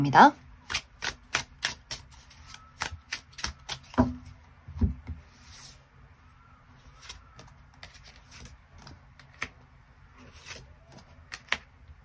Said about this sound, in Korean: 새로운 사람의 등장 가능성에 대해서도 추가 카드 뽑아보도록 하겠습니다